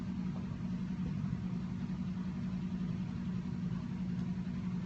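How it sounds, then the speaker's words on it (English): A motorcycle started up next door at a rental house, heard as a faint, distant, steady low engine drone that holds evenly without revving. "Somebody just started up a motorcycle next door."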